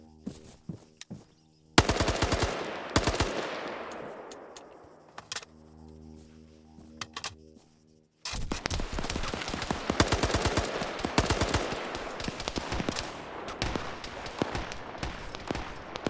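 Automatic and single gunfire in a multiplayer military game battle, loud close bursts and rapid volleys separated by a brief lull with a lingering echo, then dense sustained firing.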